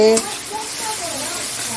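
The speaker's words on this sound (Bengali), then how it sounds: "মশলাটা দিয়ে দিলাম মশলাটা ভাজা করতে করতে" Spice paste fries in a pan with a steady, bright sizzle running throughout, moderately loud, with a faint voice now and then over the hiss.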